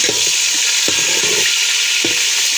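Steady, dense sizzling of garlic ginger paste frying in a hot pan, with a few soft stirring scrapes near the start and again near the end. No voices.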